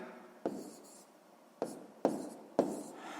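Pen moves across paper in soft scratchy strokes, with several sharper taps as the tip meets the page, close and quiet, while a math problem about fractions is worked out.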